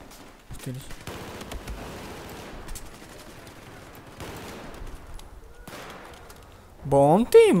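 Bursts of rapid gunfire rattle intermittently in a video game, some faint and distant, with a louder flurry near the end.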